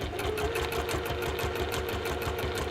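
A sewing machine stitches fabric around a curve, running a fast, steady mechanical chatter with a rhythmic pulse, close and continuous with no voices.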